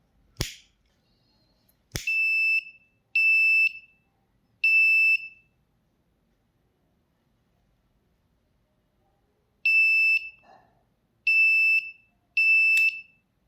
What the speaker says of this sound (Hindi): बजर जो है वो बीप करने लगेगा।